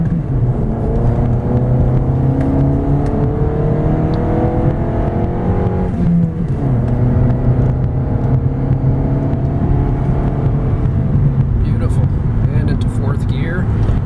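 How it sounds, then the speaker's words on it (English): A 2000 Honda Accord with a 5-speed manual pulls hard up a hill, engine note rising steadily through the rev range, dropping at a shift midway, then climbing again over continuous road and wind noise. "Now we'll go ahead and do an acceleration pull here and just see how the vehicle performs going up this hill."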